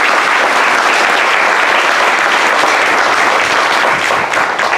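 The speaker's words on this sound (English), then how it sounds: "Let's give them a big round of applause." Loud, sustained applause from an audience at a Democratic Women of Monterey County event, dense and continuous clapping filling the room with no speech over it.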